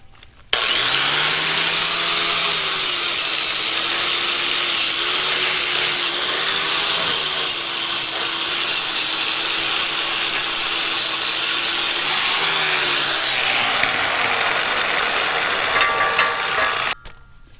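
Steady grinding whine of a power tool buffing the flat surfaces of Caterpillar D2 track links, a continuous abrasive rasp that runs loud and close for about sixteen seconds before cutting off.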